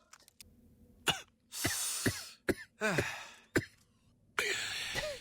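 Several harsh coughs and throat-clearing bursts in a row from a person in the middle of a Fallout: New Vegas gaming session, loud and close, with gasping breaths between them.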